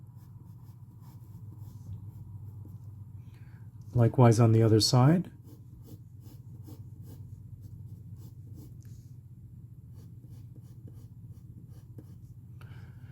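Pencil sketching a self-portrait on paper gives faint, soft scratching strokes throughout, briefly interrupted by someone speaking.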